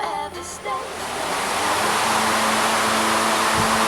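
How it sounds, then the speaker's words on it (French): Wind effect blowing in a Cinextrem special-effects theater, a broad rushing roar that swells up after a brief start and holds loud and steady. "alors nous avons d'abord le vent"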